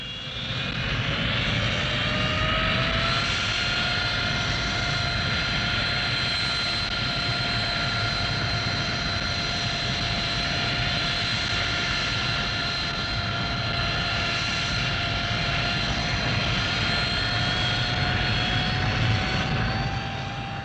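A loud Hawker Siddeley jet aircraft engine drones continuously with a steady whine and roar, sustained throughout as the plane approaches and passes near, no voices.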